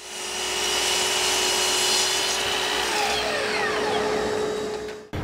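A dado blade on a table saw trims a walnut frame piece, a loud, steady whine with a constant grinding rasp of the cut that runs unbroken for about five seconds before winding down abruptly.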